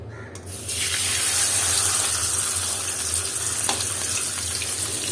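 Rupchanda fish, a pomfret, hits hot oil in a pan with a sudden loud sizzle that settles into a steady, dense frying hiss, close up with no talking.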